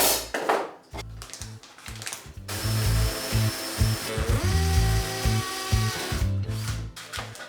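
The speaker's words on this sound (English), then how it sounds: "and then drill it." Power drill boring holes in a kitchen wall for a cooker hood bracket, loud close bursts of whirring with short pauses and a ratcheting rhythm between runs.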